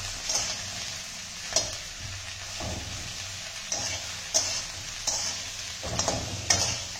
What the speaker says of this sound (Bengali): এবার আচ্ছা করে ভাজা হবে।